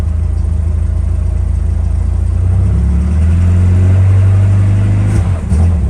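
A Lada engine runs loudly up close with a rough, clattering diesel-like idle, its pitch rising slightly midway before settling again.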